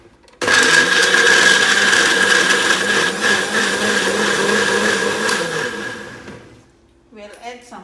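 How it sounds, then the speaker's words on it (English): A kitchen blender whirs loudly and steadily as it purees onion, garlic and water, running for several seconds before winding down, followed by a brief voice. "we will blender the onion and the garlic."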